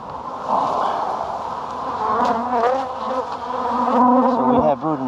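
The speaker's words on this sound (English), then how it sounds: "It's nice to see bees getting out of the long winter." A dense, steady buzzing of many honey bees around a hive in early spring, close by, continuous throughout with shifting pitch as individual bees pass near.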